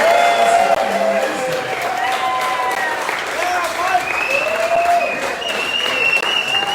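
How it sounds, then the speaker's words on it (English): Crowd applause at an Oktoberfest event, a steady wash of clapping lasting several seconds with voices mixed in underneath. "Why don't we give the old man a round of applause too?"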